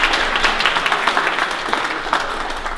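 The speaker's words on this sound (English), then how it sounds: "please give them a round of applause for providing some of the wines" At a one-year anniversary party, a crowd applauds wine providers with continuous, fairly loud and close clapping throughout, individual claps standing out from the dense wash.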